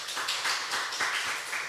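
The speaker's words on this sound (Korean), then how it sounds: "박수 한번 치겠습니다." Church congregation clapping together during a service, a dense run of overlapping claps at moderate level lasting under two seconds, with no speech.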